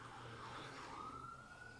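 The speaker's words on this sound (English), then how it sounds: "You know those sirens are for?" Emergency sirens sound faintly from outside, a distant wavering wail that rises and sustains in a steady tone beneath a quiet room.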